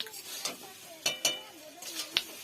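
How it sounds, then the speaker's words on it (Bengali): A spoon scrapes and clacks against a cooking pan in several sharp, irregular strokes while food sizzles softly underneath, close and fairly quiet. "এইভাবে নাড়াচাড়া করে লাভিয়ে নিতে হবে।"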